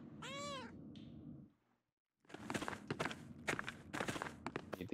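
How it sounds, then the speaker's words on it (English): A cat in the Pentiment video game gives one clear, rising-and-falling meow. After a short silence comes a run of close, crisp paw steps. "Oh, it's just a cat."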